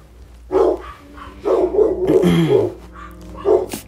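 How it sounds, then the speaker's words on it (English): A dog barks nearby in a short run of loud, sharp barks, with a pause and then one more bark toward the end, and no talking over it. "it's like my dog's gonna bark."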